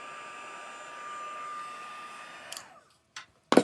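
Heat gun blowing on embossing powder for card making, a steady whirring hiss that cuts off after about two and a half seconds, followed by a couple of short clicks and bumps.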